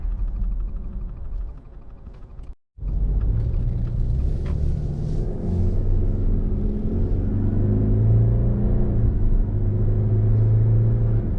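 Steady low engine rumble and road noise inside a 2021 Subaru Ascent Touring SUV with a CVT transmission while driving, continuous and close, with a brief dropout near the start and no talking.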